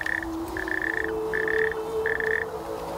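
A natterjack toad call plays from a stereo outdoors at a pool's edge, a series of short rasping trills repeated about four times, steady and fairly close.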